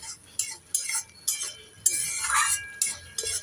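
Spiced masala for an okra and potato curry is stirred in a pan, with a spoon scraping and clinking in about eight quick, regular strokes over a faint background and no talk.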